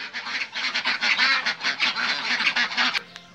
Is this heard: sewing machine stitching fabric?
no